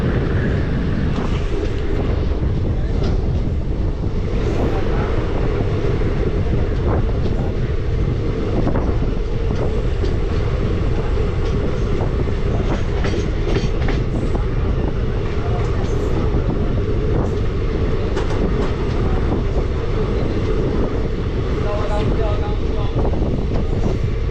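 A passenger train runs through Tarapith Road station without stopping, heard from on board as a loud, steady rumble and rattle of wheels and carriages with wind noise, continuous for the whole stretch.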